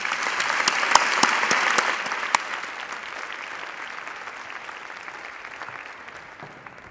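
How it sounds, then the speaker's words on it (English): Graduation ceremony audience applauding the graduating class, a dense, sustained clapping that starts full and gradually thins and softens toward the end, with no talk over it. "Please join me in a round of applause to all our graduating class."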